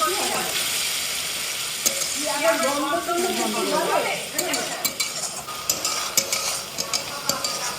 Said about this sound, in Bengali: এটা ভালো করে কষিয়ে নেব আমি আদা রসুনের পেস্ট আর টমেটো পেস্টটা দিয়ে